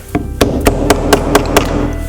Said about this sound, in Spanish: lo que voy a hacer es coger un martillito y pues le vamos a dar unos golpecitos